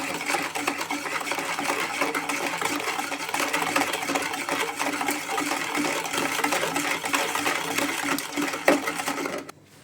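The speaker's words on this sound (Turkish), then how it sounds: "Böyle güzelce çırpıyoruz şeker eriyene kadar." An electric mixer whisks a sweet mixture until the sugar dissolves for tres leches cake, a steady close whirring buzz running throughout before cutting off at the end.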